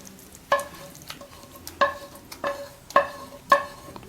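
A spoon scrapes around a bowl in five or six sharp, rhythmic strokes, each ending with a clink, stirring a thick mixture with sautéed tomato.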